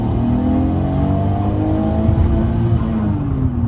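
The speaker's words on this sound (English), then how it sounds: "We talked about that special titanium exhaust in the back" Loud, throaty titanium exhaust roar from a Nissan Skyline GT-R R34 pulling through the gears, pitch climbing and dipping as it accelerates, up close and uninterrupted.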